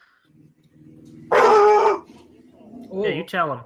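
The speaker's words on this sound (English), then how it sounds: "I'm sorry, that's my dog." A pet dog barks once, loud and close, in a short burst lasting about half a second. Before the bark there is a low growl. Afterward people speak and exclaim.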